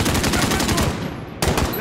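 Rapid automatic gunfire in the 2019 Call of Duty Modern Warfare campaign, a loud close burst of rattling shots that briefly drops out and then resumes.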